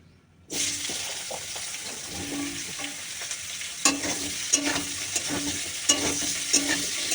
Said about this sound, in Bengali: এবার দিয়ে দেবো এই যে সবজিটা কেটে রেখেছি, বেগুন আলু, এটাই দিয়ে দেবো।